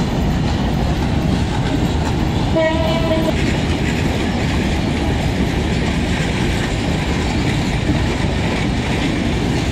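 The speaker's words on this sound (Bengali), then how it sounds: "মধুমতি এক্সপ্রেস ট্রেনটি এইমাত্র ঈদযাত্রায় ঢাকা রেল স্টেশন থেকে রাজশাহীর উদ্দেশ্যে ছেড়ে গেল।" The Madhumati Express pulls away from Dhaka railway station with a loud, dense roar of wheels and carriages close by, and a short horn blast cuts through early on.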